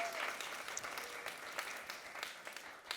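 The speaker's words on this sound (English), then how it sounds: "One round of applause for Marthe." An audience applauds a speaker, Marthe Bakana, at a mentorship panel event, with dense steady clapping from a moderate-sized crowd that holds even for the full three seconds.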